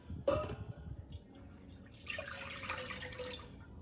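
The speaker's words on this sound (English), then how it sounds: "in my saucepan, we're going to add in 1 cup of water" Water poured from a tap or jug into a saucepan for cooking oatmeal, a close splashing and trickling stream that starts after a short drip and carries on steadily.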